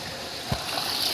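Water pours strongly into a catfish pond as a steady broadband rushing, with one short splash in the middle, heard up close and without any voices.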